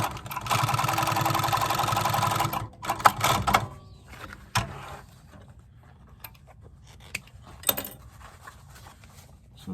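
A sewing machine stitches a leather boot top, running steadily for about three seconds, then pausing and restarting in short mechanical bursts with clicks and handling noises between stitches, close and alone.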